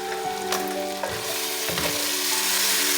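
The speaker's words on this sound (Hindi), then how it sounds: "इस स्टेज पे गोश्त हमारा बहुत अच्छी तरह भुना जा चुका है।" Meat sizzling as it fries with green chillies in a pan for bitter gourd curry, a steady close hiss with stirring scrapes, growing louder toward the end.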